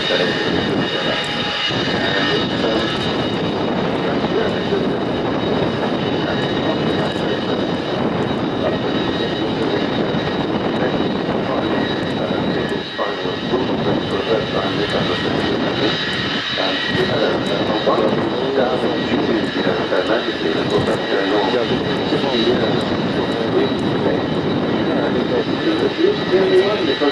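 The Avro Vulcan XH558 jet bomber roars loud and steady throughout a flying display, a dense, sustained engine rumble with a sharp high-pitched whine laid on top and a brief dip midway.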